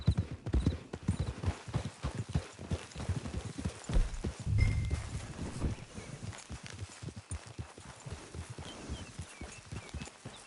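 Horse hooves clip-clop steadily in a PS4 video game, a continuous rhythmic walking beat with a brief whinny midway, heard alone at moderate level.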